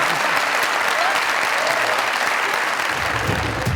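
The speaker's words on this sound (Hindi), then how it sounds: "तालियां" Loud, dense applause from a television comedy talk show studio audience, sustained evenly throughout at close range.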